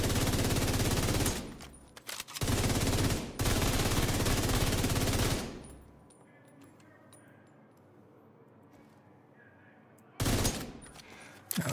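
Automatic weapons fire in The Division, a shooter game played in PvE mode: long, loud sustained bursts of rapid gunfire crackle up close, break off into a quiet stretch with faint scattered sounds, then a final burst erupts near the end.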